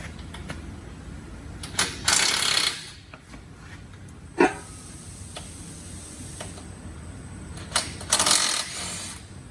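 Tool work on the crossbar bolts of a 2003 Ford F150, with bursts of ratcheting clicks, a metallic clank and sharp ticks in a quiet shop.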